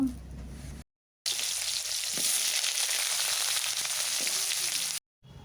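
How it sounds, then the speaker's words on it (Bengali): Cut potatoes fry in mustard oil in a hot wok, giving a continuous crackling sizzle that stays even throughout, with short silent gaps at the start and end. "এরপর আমি কেটে রাখা আলু ভেজে নেব।"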